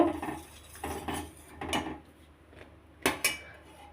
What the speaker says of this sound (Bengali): পায়েসটা বসিয়ে দিয়েছি দুধটা উতলাচ্ছে পায়েসটা রান্না করব